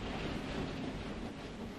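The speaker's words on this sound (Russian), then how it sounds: "на улице очень сильный ветер" Loud, constant wind rushes and buffets the microphone outdoors, a dense roaring noise without pauses.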